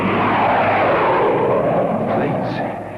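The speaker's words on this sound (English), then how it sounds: "Planes? How low they're flying?" Low-flying airplanes pass overhead, giving a loud, steady engine roar that swells and then begins to fade toward the end.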